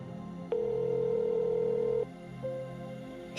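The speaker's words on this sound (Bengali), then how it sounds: "তারপর রবি কাকাকে ফোন করলো।" A single long electronic phone tone sounds for about a second and a half, then a brief second beep follows over a quiet background hum.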